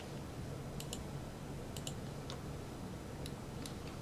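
Keyboard keys pressed while modeling in 3ds Max, sparse light clicks in small pairs and singles over a quiet hiss, faint and close.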